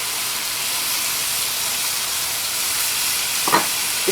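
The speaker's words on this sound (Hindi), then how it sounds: "इसको हाई फ्लेम पर यूं स्टर करते रहें" Garlic potatoes being stirred in oil over a high flame, giving a steady broadband frying sizzle throughout, with a brief scrape or clink of stirring near the end.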